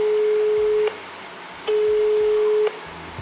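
A standard telephone ringback tone: a steady, plain electronic beep that switches on and off in regular one-second pulses, clean and alone with no voices.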